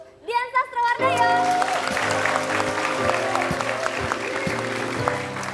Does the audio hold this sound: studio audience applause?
yes